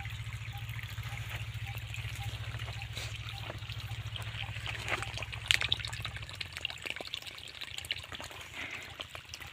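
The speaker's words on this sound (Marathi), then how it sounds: "आता नुसतं सोलारचंच पाणी चालू आहे" Water running from a solar-powered farm pump on a sugarcane farm, a steady low flow with trickling and dripping that drops in volume partway through, with no talk.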